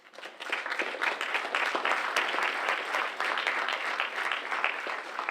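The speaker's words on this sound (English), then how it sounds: "give a round of applause to all the generous donors." A seated audience at a senior awards ceremony applauds the generous donors, a dense, steady wash of many hands clapping that swells in quickly and holds for several seconds with no voices.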